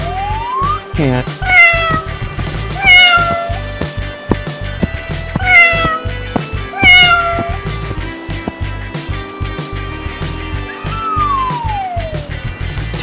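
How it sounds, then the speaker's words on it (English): A cat meows several times, each call a rising then falling wail that stands out loud and near, with background music running underneath throughout. "Cat."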